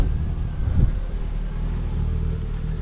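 A car engine held at half clutch on an uphill rumbles low and steadily from inside the cabin, with a brief thump early on and no talk.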